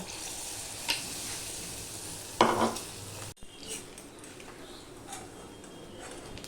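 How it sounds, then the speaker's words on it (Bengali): Egg curry with gram flour frying in a pan: a steady close sizzle with a sharp scrape or clatter of stirring partway through, then a softer, quieter sizzle continuing. "এবার আমি আবারও ভেজে নেব"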